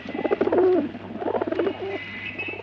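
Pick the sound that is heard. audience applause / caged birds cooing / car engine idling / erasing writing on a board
caged birds cooing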